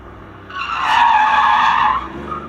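Car skidding with its rear axle sliding during a driving-training exercise, a loud tire squeal rising after a brief lead-in, holding steady, then easing off near the end under engine noise.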